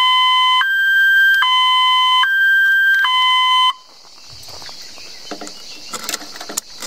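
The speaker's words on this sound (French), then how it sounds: "Et dès que j'appuie, je déclenche la bombe." A homemade airsoft bomb prop, triggered by a remote control, sounds a loud two-tone electronic alarm that alternates in a steady pattern for several seconds, then cuts off abruptly, leaving quiet hiss and faint clicks.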